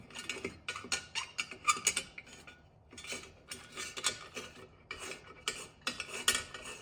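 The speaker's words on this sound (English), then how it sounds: "I'll snug up the muffler bolts, I'll snug up the cylinder head bolts" A wrench is used to tighten the muffler bolts on a Husqvarna 564 XP G chainsaw, making repeated short metallic rasping and ratcheting strokes in bursts, fairly close and quiet, with no talk.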